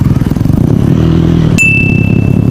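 A 2005 motorcycle idles with a loud, rapid, even engine pulse right up close, and a short bright ring cuts in partway through while the engine keeps running.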